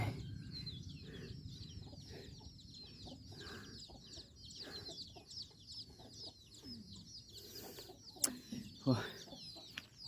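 Chickens cluck and murmur around a farmyard at dusk, soft and scattered, with a couple of sharper squawks near the end and other faint bird calls in the background.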